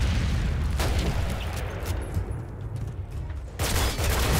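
Call of Duty gunfire, a dense rattling fusillade with booming shots, loud and continuous, easing briefly before another heavy burst.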